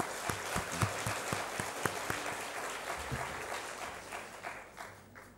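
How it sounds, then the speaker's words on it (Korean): A congregation at a New Year's Eve church service claps for the choir. The applause is fairly quiet and a little distant, with a few sharp individual claps standing out early before it thins and fades. "우리 찬양대 위해서 우리 박수 한번 더 칩시다"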